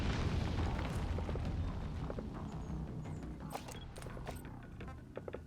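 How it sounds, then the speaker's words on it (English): Enemy mortar rounds explode in Metal Gear Solid V as a low, rumbling boom that rolls on continuously, fairly faint and distant, with a few small pops and thuds toward the end. "Oh, they have mortars now, too."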